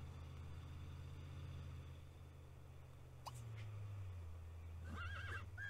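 A horse in The Sims 3 life-simulation game whinnies twice, faint and brief over a low steady game hum, with quiet background tones between.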